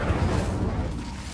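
Incendio fire spell cast in Hogwarts Legacy, a dense roaring burst of flame that fills the short moment, loud and sustained with a rumbling low body throughout.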